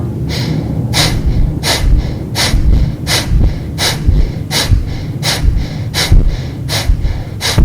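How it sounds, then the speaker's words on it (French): Kapalabhati yoga breathing: a person makes a rapid, regular series of sharp, forceful nasal exhalations, about one or two per second, close and loud, with no talk. "on vient activer Kapalabhati 30 fois"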